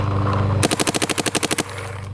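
A Shocker paintball marker fires a fast burst of about ten to twelve close, punchy shots in roughly one second, the rhythm slightly uneven as the feeding hopper struggles to keep up, then stops.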